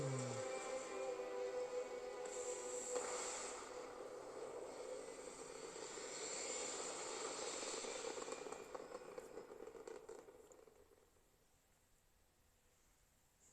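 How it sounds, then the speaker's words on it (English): A spaceship in Starfield lifts off into orbit with a sustained, swelling engine roar and hiss that holds steady for several seconds, then fades away to near silence. "Prepare for liftoff."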